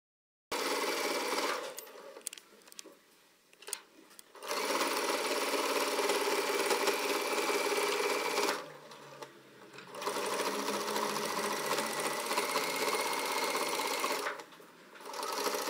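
Sewing machine stitching a seam 1 cm from the edge while assembling a puffer jacket (doudoune): a loud, steady motor hum with rapid needle chatter, running in long bursts broken by brief pauses.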